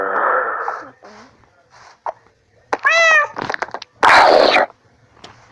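Cats meow in a modded Minecraft game, with several short, bright meows scattered among a player's excited talking and other game sounds.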